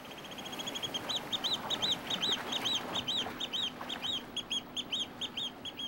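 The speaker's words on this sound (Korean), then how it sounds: "목을 낮게 숙이고 우는 것은 구애의 표시." A pair of oystercatchers calling in courtship on a rocky sandbar island: rapid, shrill piping notes repeated in quick rhythmic bursts, fairly near, over soft surf and wind.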